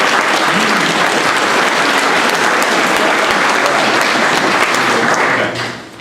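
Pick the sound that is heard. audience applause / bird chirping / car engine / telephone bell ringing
audience applause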